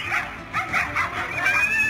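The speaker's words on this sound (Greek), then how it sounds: "Η κραυγή του μικρού σκύλου ραγίζει καρδιές." Small stray dog crying out during a wolf attack on a village road, a series of shrill yelps and whimpering cries in quick uneven bursts, fairly loud and close, with faint background noise.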